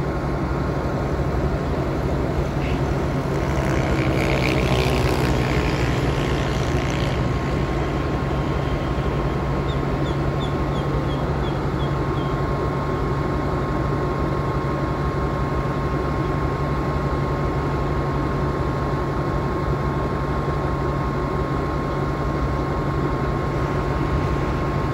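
Rapid train no. 167 from Bangkok to Kantang runs past Maluan station on the southern line. A loud continuous rumble holds throughout, with a steady engine hum and a brief burst of higher squealing early on.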